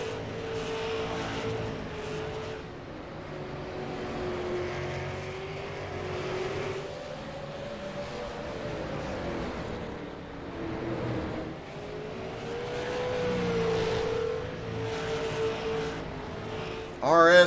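Super late model stock cars race at Southern National, their engines a steady, continuous roar that rises and falls slightly as the pack circles the track. The sound stays fairly loud throughout, with a sharper burst right at the end.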